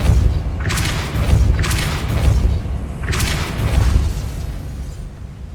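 The Depulso force spell cast in Hogwarts Legacy, a series of heavy booming thuds with whooshing bursts, three strong blasts rolling into each other over a rumbling background.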